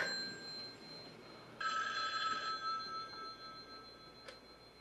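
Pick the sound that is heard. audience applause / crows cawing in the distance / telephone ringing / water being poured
telephone ringing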